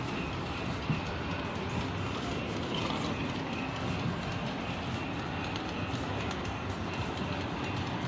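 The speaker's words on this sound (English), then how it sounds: "here's the dining room train" A steady mechanical rumble and whir with faint clicking runs throughout as a model train rolls continuously on its track nearby in a dining room.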